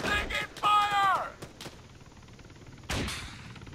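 Gunfire in the Arma military shooter on Altis, a few sharp shots and bursts at the start, then a quieter stretch before another burst near the end, with a player's shout over it.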